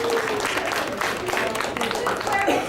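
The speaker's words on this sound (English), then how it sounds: "Big round of applause." A group of volunteers at a homework club training session breaks into a round of applause after a children's rhyme, a steady wash of clapping with voices murmuring underneath.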